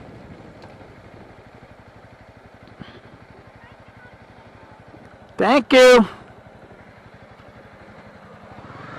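A Honda CB300R motorcycle riding along a bumpy Myrtle Beach road, its low engine drone and wind rumble steady throughout, with a brief loud shouted voice near the middle.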